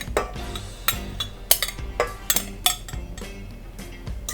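Cupcake batter gets stirred in a mixing bowl, with close clinks and scrapes of a utensil against the bowl in an uneven rhythm and no talking.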